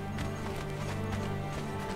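A horse gallops in the video game Conan Exiles with rapid, even hoofbeats over a steady low rumble in a snowy area, continuous and close.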